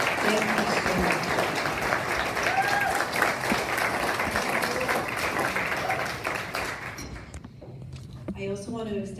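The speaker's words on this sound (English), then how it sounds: "Please join me in a round of applause for him." A concert audience at a benefit show against gun violence breaks into sustained applause, dense clapping that fades out near the end as a speaker starts talking.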